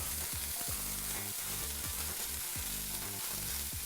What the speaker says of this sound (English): now you want to hear a really big sizzle when you put this in here